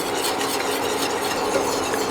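A continuous scraping and rubbing of a utensil stirring a thick cake cream mixture in a saucepan on the stove, steady and close, with no talking.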